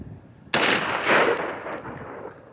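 A short-barrel AR-15 pistol fired at a range, a sharp close burst that rings out loudly and fades into echoing reverberation.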